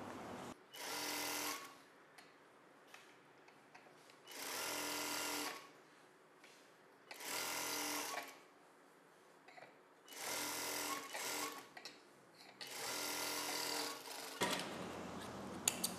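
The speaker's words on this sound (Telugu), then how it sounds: "ఇప్పుడు మనకి బ్యాక్ పార్ట్ని స్టిచ్చింగ్ చేయడం కంప్లీట్ అయిపోయింది." Sewing machine stitching a blouse, five bursts of fast mechanical whirring separated by brief quiet pauses, close and clear with no talking.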